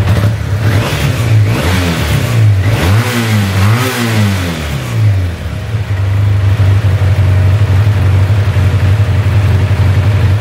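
A Yamaha Super Ténéré 750 motorcycle engine, carburetor just cleaned, revs up and down a few times in quick, slightly uneven bursts, then settles into a loud, steady idle close by.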